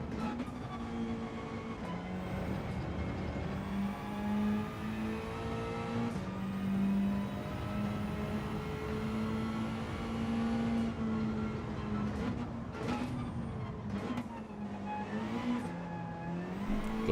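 A racing car engine drones loudly and continuously through a race, its pitch rising and falling as it revs and shifts, with no talk.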